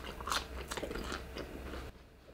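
Someone bites into a crunchy fried jalapeno popper up close, a few crisp crackling crunches followed by quieter chewing, with no talking.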